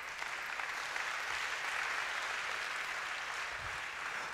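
Sustained applause from a church congregation during a Sunday service, steady and even throughout, moderately distant with no voices standing out.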